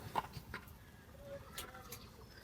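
Pigeons coo faintly at a wooden pigeon house damaged by a storm, soft low calls rising now and then through a quiet outdoor background.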